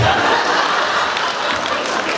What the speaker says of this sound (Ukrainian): із скаженими оплесками ми їх проводжаємо